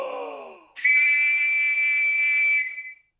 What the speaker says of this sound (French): mon nouveau sifflet super extra méga puissant.